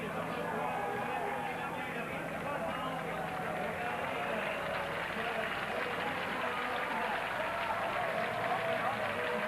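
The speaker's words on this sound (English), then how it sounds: "They give much applause to their own riders." A French roadside crowd at the 1994 Tour de France prologue time trial in Lille applauds and shouts in a dense, continuous roar for a home rider, while a commentator talks over it.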